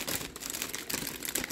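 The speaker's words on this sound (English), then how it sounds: "All right, so I'm gonna marinate this in a plastic bag." A plastic bag holding food marinating in soy sauce, sesame oil and Asian pear crinkles and rustles steadily as it is folded over, close and fairly quiet.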